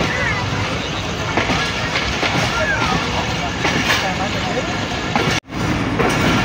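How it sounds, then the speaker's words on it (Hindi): A train rolls into the yard at Lahore Junction railway station with continuous loud clattering and rumbling, squeals scattered through it, and a brief drop in sound near the end. "ट्रेन हमारी लाहौर जंक्शन रेलवे स्टेशन के यार्ड में दाखिल हो चुकी है"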